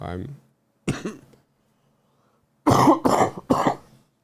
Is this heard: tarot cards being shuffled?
no